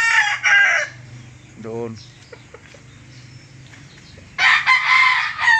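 Rooster crowing once, a short clear call in the middle, with people talking loudly before and after it close by.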